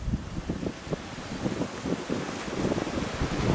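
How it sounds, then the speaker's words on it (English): Steady gusting wind buffets the microphone outdoors on a training field, a low rumbling roar that swells slightly toward the end, with no voices. "A little windy out here today"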